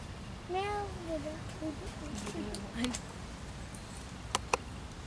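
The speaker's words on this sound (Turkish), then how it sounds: "Bir tane turuncu bana meow meow deyip duruyor." An orange cat meows repeatedly in an outdoor park where many cats roam, the plaintive calls rising and falling at moderate distance over steady background murmur, followed by a couple of sharp clicks.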